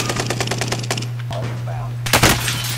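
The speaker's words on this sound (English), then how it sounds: "Just took shots from somewhere" Video game gunfire: a rapid burst of automatic shots, then a pause and a louder cluster of shots near the end, set against a steady hum, with a voice talking at times.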